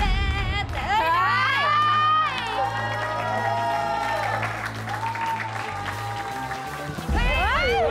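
A crowd at a Thai TV show demonstration cheers and shouts, with excited children's voices and clapping layered over a steady chanted rhythm, loud and close throughout.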